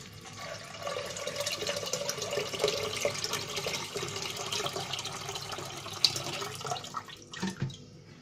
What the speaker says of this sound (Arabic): وهنملى الحله دي ميه ونقفلها كويس